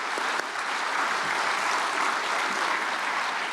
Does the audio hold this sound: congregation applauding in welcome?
yes